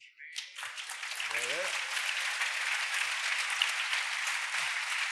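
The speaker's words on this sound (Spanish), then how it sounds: "Dale un aplauso al Señor por eso" A church congregation breaks into sustained applause right after a short spoken phrase, a dense steady roar of clapping that continues evenly for several seconds.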